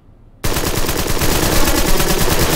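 In the video game Empire of Sin, gunfire cuts in abruptly after a brief quiet moment, then sustained rapid machine-gun bursts follow, loud and close, rattling on without pause.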